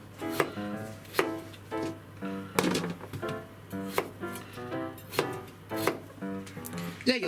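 A kitchen knife chops Kitaakari potatoes into small pieces on a cutting board, about a dozen crisp close thunks in an uneven rhythm, with a voice talking quietly between cuts.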